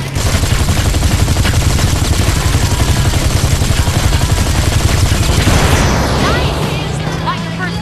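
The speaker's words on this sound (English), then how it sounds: "this is the part where you take this gun and shoot at the asshole behind us while I drive" Rapid gunfire from a driving chase in the mobile video game Gangstar Vegas, dense bursts of shots running continuously and loud over an engine-like roar and game sound effects.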